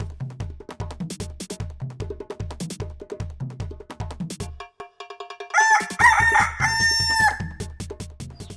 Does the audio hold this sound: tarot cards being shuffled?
no